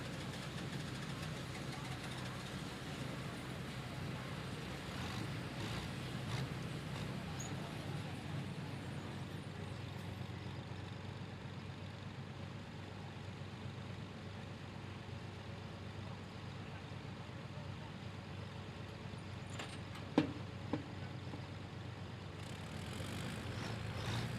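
An International tractor's engine runs steadily at a county fair tractor pull, a low continuous rumble heard from a distance, joined by faint crowd and announcer voices and a couple of brief knocks near the end.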